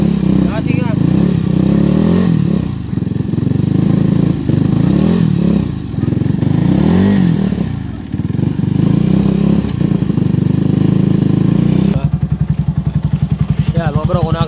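A Kawasaki Avenger 220 motorcycle engine runs loudly and steadily close by, with an idle that has its air-fuel mixture closed off and a loose intake manifold, changing to an even pulsing chug near the end.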